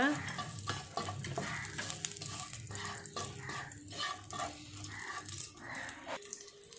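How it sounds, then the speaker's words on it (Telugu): Green chillies fry in a hot pan with cumin for capsicum paneer masala. A steady, close sizzle runs throughout, broken by repeated stirring scrapes, and no one speaks. "ఇక నాలుగు పచ్చిమిరపకాయలు రెండు మిరపకాయలను కూడా వేసేసుకోవాలి"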